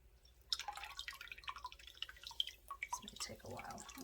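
A whole bottle of soy sauce poured out, a quiet trickle with irregular drips and gurgles running continuously over a few seconds.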